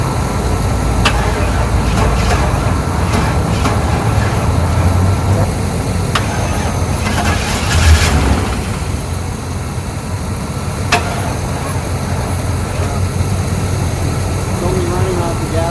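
A 1998 GMC Sierra truck engine runs on fed gas, a loud, constant low rumble close by with a few sharp clicks and knocks on top, and people talk over it.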